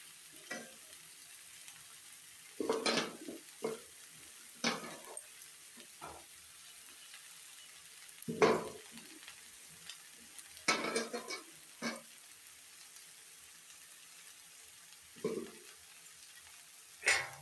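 Leftover roti pieces frying and being stirred with spice masala in a pan, with a quiet sizzle broken by scattered bursts of spatula scraping, some loud and some faint.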